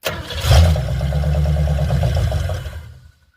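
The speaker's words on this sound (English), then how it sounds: "It'll start and run for, you know, what, 2 seconds, real fine, but then it quits." A car engine with a faulty carburetor cranks and catches, then runs rough and steady for about two seconds at close range before dying away into quiet.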